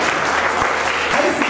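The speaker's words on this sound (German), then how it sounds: "Bitte mal einen großen Applaus." Studio audience at a late-night comedy show applauding steadily and loudly throughout, a dense wash of clapping with no talk over it.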